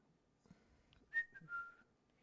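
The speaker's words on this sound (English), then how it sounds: "You got to whistle while you work." A short, faint whistled phrase of a few rising and falling notes, alone against quiet background.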